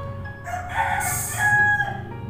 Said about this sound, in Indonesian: sorry guys, banyak bunyi ayam.